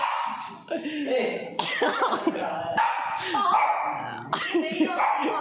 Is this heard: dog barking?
yes